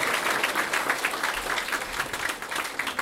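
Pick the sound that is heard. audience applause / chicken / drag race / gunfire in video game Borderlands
audience applause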